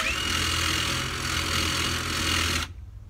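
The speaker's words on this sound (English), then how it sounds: "I'm even buffing the washers with a wire brush because they are anodized grade 8 washers." Wire brush buffing anodized grade 8 washers in a workshop during a van engine swap, a steady, loud abrasive whir that runs continuously before cutting off abruptly near the end.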